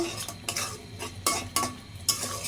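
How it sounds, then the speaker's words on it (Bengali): Spice masala being stirred and sautéed in a pan for a beef and taro curry, rhythmic scraping strokes of a spoon roughly every half second over a soft background sizzle. "এখন এগুলোকে নাড়াচাড়া করবো। এই মশলাটাকে ভালোভাবে কষাবো।"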